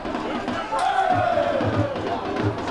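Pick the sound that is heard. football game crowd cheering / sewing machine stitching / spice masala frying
football game crowd cheering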